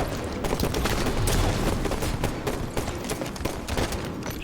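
Gunshots crackle through a video game tournament match, a dense run of rapid shots and bursts of fire at a steady loud level with no talk.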